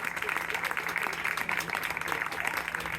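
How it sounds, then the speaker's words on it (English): Audience applause at an outdoor bluegrass and barbecue event, a dense, steady wash of clapping from a crowd that holds evenly for the whole stretch. "you get one more big round of applause?"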